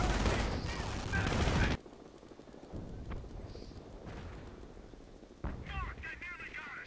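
Artillery fire in Company of Heroes: an explosive blast opens loud, then distant rumbling shots and rattles play under quieter game sounds, with another burst near the end.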